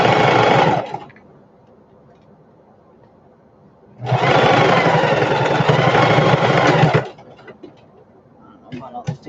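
Sewing machine stitching a shoulder bag liner in two loud, close bursts, a short run and then one lasting about three seconds, with a steady rapid whir and quiet pauses between.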